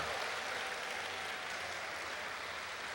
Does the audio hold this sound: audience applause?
yes